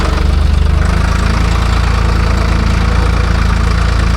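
A Ford 3000 tractor engine runs steady and loud nearby while pulling a heavy disc harrow through a vineyard, a continuous low, throbbing drone with a faint rhythmic knock and no voices.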